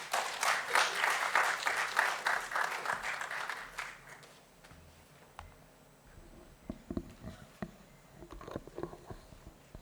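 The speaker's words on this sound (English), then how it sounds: "Let us all welcome Siddharth with a big round of applause." Audience applause for a speaker being welcomed to the stage at a venture capital talk, dense clapping for about four seconds that thins out into scattered claps and fades.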